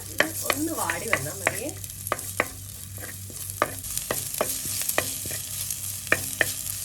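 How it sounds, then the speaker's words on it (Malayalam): Small onions sautéing in a pan for a leftover puttu snack: a soft, even sizzle under regular, distinct clicks and scrapes of a spatula stirring against the pan. "ചെറിയ ഉള്ളി ജസ്റ്റ് ഒന്ന് വാട്ടിയെടുക്കാം ബ്രൗൺ കളറൊന്നും ആവണ്ട"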